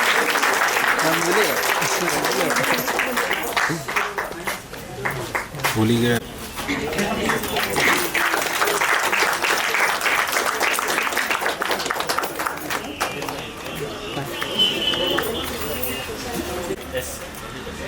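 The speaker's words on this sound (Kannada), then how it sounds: "ಎಲ್ಲರೂ ತಮ್ಮ ಜೋರಾದ ಚಪ್ಪಾಳೆ" Loud audience applause fills a book-release ceremony hall, sustained clapping that runs throughout under a presenter's voice over a speaker system.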